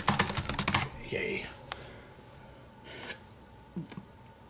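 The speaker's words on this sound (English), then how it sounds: "Voila, the legendary ThinkPad keyboard." Typing on the keyboard of a ThinkPad T500 laptop: a quick burst of close, crisp key clacks at the start, then sparse soft taps and breathy noises, with a person audible nearby.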